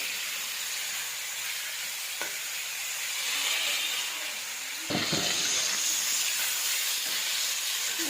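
Steady sizzling hiss of a mixture frying in a pan, with a few sharp scrapes and knocks from stirring; fairly quiet and continuous, no talking.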